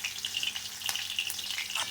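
Pabda fish fry in hot oil with a brief, soft sizzle and scattered light crackles, close by and heard alone.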